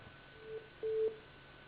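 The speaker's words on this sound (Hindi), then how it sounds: "लगता है उनका फोन कट गया।" A telephone line tone after a caller's call drops on a live television phone-in show, two short faint electronic beeps, the second one longer, over a quiet hiss.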